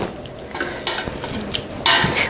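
Blueberries being mashed in a pot for jam: close, wet squelching and stirring with soft scrapes and clinks against the pot in uneven strokes, a louder scrape near the end.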